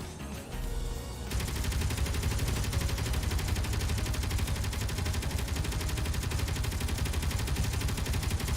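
Defensive turrets in Space Engineers fire a continuous, loud, rapid stream of automatic gunfire that starts abruptly after a brief quieter moment and keeps going steadily with little variation in rhythm.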